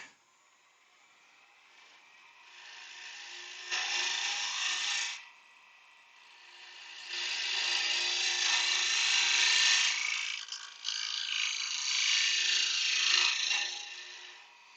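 Hand-held scraper cutting the outside of a small wooden lidded box on a lathe, giving broadband rasping bursts with a brief scrape near the start and longer sustained passes that follow the curve, close and steady.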